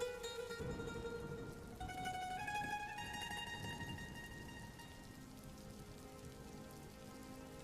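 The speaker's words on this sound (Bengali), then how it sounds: "বৃষ্টির জল যে ভাতের হাঁড়ির মধ্যে পড়ছে" Steady rain patters in a village kitchen and drips into a pot of cooking rice, a faint continuous wash of drops that holds for several seconds with no voices.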